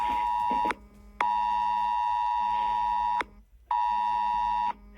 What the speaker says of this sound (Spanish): Y es Alert, que está plenamente operativo. Es el sistema de alertas de España.